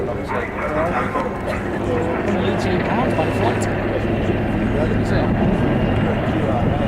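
A loud, continuous rotor and engine drone of a small military helicopter at an air show fills the scene, steady throughout, with a voice talking over it.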